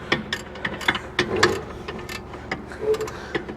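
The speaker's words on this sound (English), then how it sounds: "I'm gonna go get my 21 ratchet wrench real quick." A 21 mm ratchet wrench working on a 2014 GMC Acadia during a wheel bearing replacement, giving irregular bursts of sharp mechanical clicks close by, with some handling noise between them.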